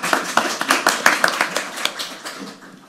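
Applause from a press-conference audience for a band: a brief scatter of separate hand claps at first, then a thicker patter of clapping that thins and fades toward the end.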